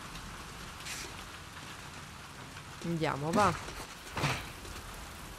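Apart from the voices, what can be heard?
rain falling in The Last of Us Part II video game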